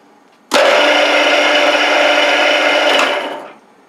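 An APMT 1003 face mill spins at 1600 RPM and cuts metal with a sudden loud, steady whirring grind that holds for about three seconds before winding down, heard close and alone.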